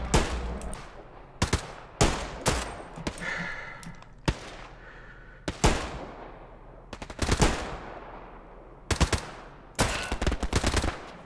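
Video game gunfire, including a headshot: sharp, loud bursts of rapid automatic shots arrive in repeated volleys separated by brief lulls, with almost no talking.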